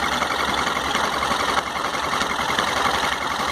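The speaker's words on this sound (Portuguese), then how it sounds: "Barulho no motor da XT 660 quando o motor está quente." A Yamaha XT660 motorcycle engine idles loudly and evenly close by, with a rattling, knocking noise from the clutch area running through the steady idle.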